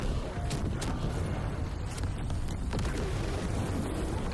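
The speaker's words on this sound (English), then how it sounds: "Shoot it, Mike." Gunfire in the Until Dawn Remake as Mike shoots at a creature: several sharp cracks scattered over a rumbling, noisy backdrop, moderately loud amid ongoing action sounds.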